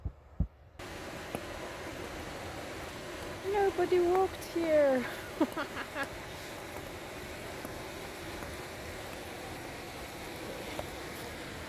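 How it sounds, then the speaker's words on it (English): The low, continuous rumble of the Gil river in snowy winter woods in Romania runs underneath, while a person speaks briefly over it midway. "if you can hear a rumbling, that's the river to the right"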